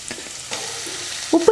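Thinly sliced onions go into hot oil for an onion and wheat-flour snack, a soft steady sizzle with a couple of louder stirring clatters near the end.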